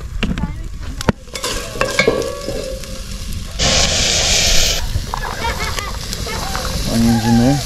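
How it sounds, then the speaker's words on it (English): Steak searing over a campfire while tent camping, with a loud, steady sizzle and crackle rising partway through, mixed with utensil clatter and a speaking voice. "Just kind of want to get a quick sear on them."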